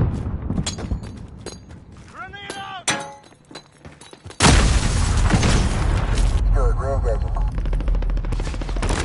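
A grenade bursting in a modern military first-person shooter game, a sudden heavy boom that floods into sustained loud rumble and debris, following earlier rattling gunfire, metallic clicks and shouted voices.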